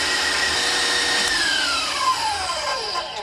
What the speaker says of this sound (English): Now we're going to whisk it until the cream is soft peaks.